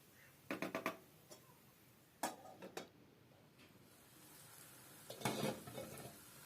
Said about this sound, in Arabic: بعدها نضيف الطماطم نخلطه مليح معاهم ونخليه يزيد يتقلى حتى هو حتى يذبل مليح